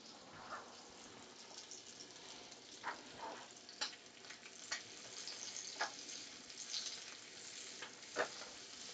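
Bacon chunks fry quietly in a pan, with a soft steady sizzle and scattered brief pops and stirring sounds, faint and close, with no talking.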